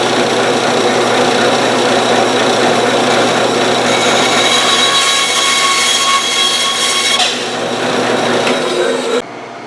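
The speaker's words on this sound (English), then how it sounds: "I got an old broom handle here that I'm just going to cut a chunk off the end of it" A chunk being cut off the end of an old wooden broom handle, with a loud steady power-tool whine and grinding that runs continuously, then drops in pitch and stops abruptly near the end.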